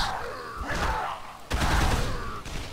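Bursts of gunfire in Dead Island, two loud sharp volleys a second or so apart, the second heavier and sustained, close and dense with no talk over them.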